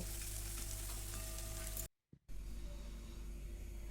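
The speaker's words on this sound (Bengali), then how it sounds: "মিচুরিগুলো প্রায় ভাজা হয়ে গেছে দেখুন" Pui michuri, Malabar spinach leaf fritters, frying in hot oil give a steady, close sizzle. It cuts out briefly for a moment, then resumes slightly softer.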